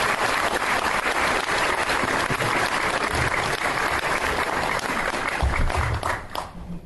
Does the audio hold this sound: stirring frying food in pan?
no